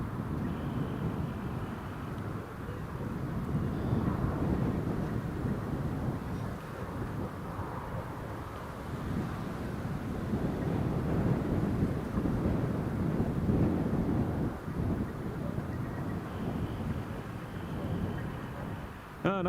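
Strong gusty wind buffets the microphone at Newcastle International Airport, a loud continuous low roar that swells and dips in waves with a brief lull, no other clear sounds standing out.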